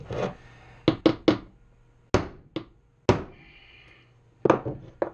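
Sharp hammer blows dimple a metal part during a trike restoration, landing in uneven bursts of one to three close, loud knocks separated by short quiet gaps.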